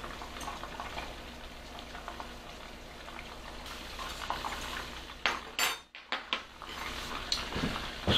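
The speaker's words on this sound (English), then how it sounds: "So these are boiling nicely." Steady bubbling and crackle of chicken thigh meatballs boiling in oil and water in a pot, with a few clinks and louder sputters near the end.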